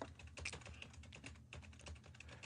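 Computer keyboard typing in the background of a radio studio, a quiet run of quick, irregular key clicks that goes on steadily through the whole stretch, with no voices over it.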